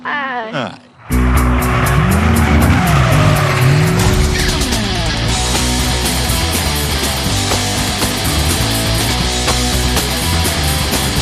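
Hot rod cars roll racing roar loudly and steadily, their engines revving hard, with long tire squeals rising and falling over the noise and a brief quieter moment at the start.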